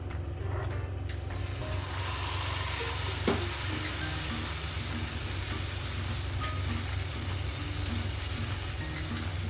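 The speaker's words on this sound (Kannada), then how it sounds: "ನಾನಿವಾಗ ದೋಸೆನ ಮಾಡ್ತೀನಿ." Dosa batter sizzling on a hot oiled griddle, a steady close hiss throughout with a brief clink near the start, no talking.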